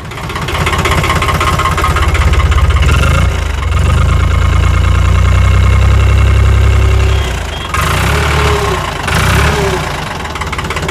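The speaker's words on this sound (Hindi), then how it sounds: "अब ट्रैक्टर को आपको स्टार्ट करके इसकी आवाज़ सुनवाते हैं कि आवाज़ जो है कैसी देखने को मिलती है।" A New Holland 3600-2 tractor, 2021 model, runs loud and close at a steady diesel idle with a deep low throb, dipping briefly in the middle and near the end before settling back to its even rumble.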